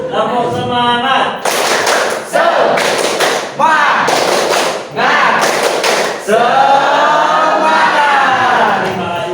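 A group repeats the tepuk semangat clapping routine in a classroom session. Several loud, close clapping bursts follow one another in a steady pattern, with voices calling out between them and a group chant at the end.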